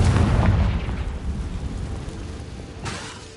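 A Confringo blasting spell in Hogwarts Legacy detonates in a loud, deep explosion with a rumbling boom that decays into low debris noise, followed by a second sharp burst near the end.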